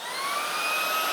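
A Shark Wandvac handheld vacuum cleaner whines steadily at close range, a continuous high motor tone that rises slightly as it runs, with no talking.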